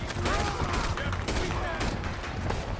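Rapid volleys of gunfire from the video game Red Dead Redemption 2, dense overlapping shots crackling throughout a chaotic chase, with shouting voices mixed underneath.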